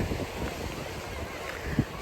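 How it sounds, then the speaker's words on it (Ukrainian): Rough sea churning at a small public beach, with steady wind buffeting the microphone and a broad, continuous rush of surf close by. "Повітря таке свіже, море хвилюється."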